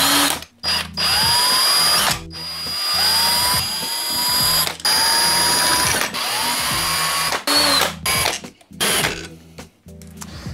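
A power tool runs in repeated bursts with brief stops, whirring and ratcheting loudly up close as it backs out the screws of a scooter's transmission cover.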